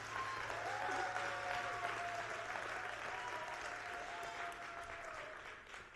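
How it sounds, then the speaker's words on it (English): A church congregation at a Sunday service claps for the praise team, a steady wash of many hands under faint voices and whoops, gradually softening near the end. "Let's give that praise team a hand clap of praise"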